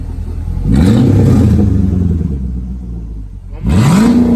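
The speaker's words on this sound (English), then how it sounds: "Go ahead, rev it a little bit." A 2006 Dodge Magnum's 5.7 HEMI V8 with muffler and resonator deleted revs twice, each blip rising sharply and then settling back to a loud, rumbling idle, close up.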